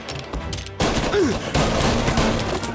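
Gunfight in the video game Mafia Definitive Edition, with bursts of loud, sharp gunfire in rapid succession, close and dominant, after a brief quieter lead-in.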